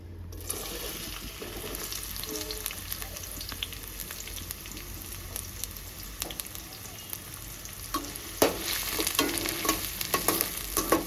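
A large chopped onion and two green chillies fry in hot oil, a continuous close sizzle and bubbling with frequent spatula stirs, growing louder and busier near the end as the pan is worked harder.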